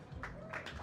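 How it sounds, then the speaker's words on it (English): Audience applause at a snooker semifinal of a WNT ranking event: a short burst of scattered hand claps from a small crowd, quiet and somewhat distant. "A big round of applause for our second semi-finalist runner-up, Mickey Krause, Can Salim."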